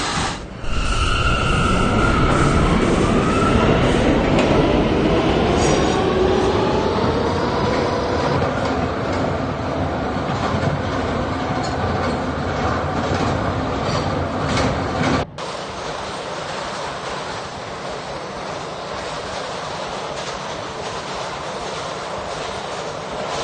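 An R179 K subway train runs on its rails toward World Trade Center, a loud, steady rumble with rising motor whine and rail noise, then a sudden drop to a quieter, smoother roll partway through.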